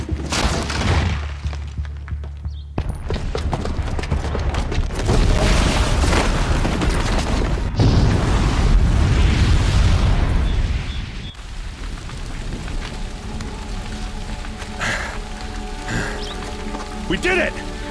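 A bomb blast from a booby trap in the video game Horizon Zero Dawn. It comes as loud booming and crashing with rumbling debris, then fades into quieter ambience, with game voices heard along the way.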